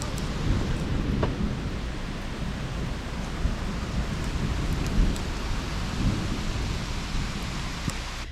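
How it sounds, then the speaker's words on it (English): Heavy rain pours steadily outside a moored narrowboat during a horrendous storm, with low thunder rumbling underneath the dense, constant hiss of the downpour. "it's absolutely peeing down outside"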